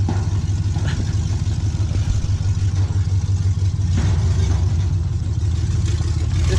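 A monster truck engine drones loud and close with a steady low rumble and light mechanical clatter, driven by a first-time driver on rough ground, with no voices over it.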